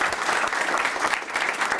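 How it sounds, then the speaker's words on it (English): Continuous, even applause from the audience at a school committee meeting, a close, steady patter of many hands with no break. "Let's give Jake a round of applause"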